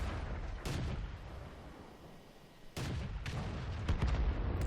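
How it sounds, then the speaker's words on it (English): Tank guns firing in the World of Tanks video game, two sharp booming shots a couple of seconds apart followed by a burst of smaller cracks and impacts, loud and close with no talking. "Keep on firing."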